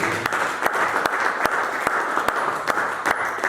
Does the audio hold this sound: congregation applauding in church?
yes